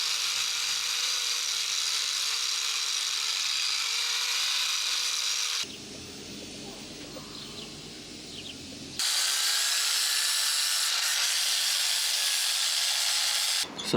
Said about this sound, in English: I'm going to grind it down and see what lurks beneath this crack